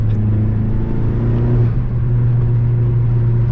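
Steady, loud engine drone from a stock Honda Civic Type R FK8 held under load in third gear, a constant low rumble that stays even throughout with no clear rise in pitch.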